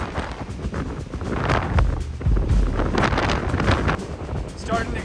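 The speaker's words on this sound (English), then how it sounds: "It's starting to get super windy, and it's raining." Strong gusting wind buffets the microphone on an exposed mountain trail in Texas as a storm arrives with rain, a continuous rough roar that swells and fades in bursts.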